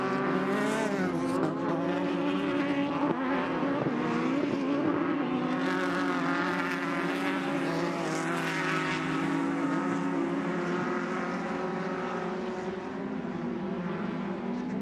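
Race cars in a Sportsman class event at the Crandon off-road track in Wisconsin roar steadily at full throttle, a continuous loud engine drone with shifting pitch as several cars pass, no talk.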